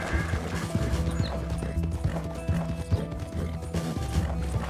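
Horse hooves in the Red Dead Redemption 2 video game clop in a steady, continuous galloping rhythm, moderately loud and close, with no talk over them.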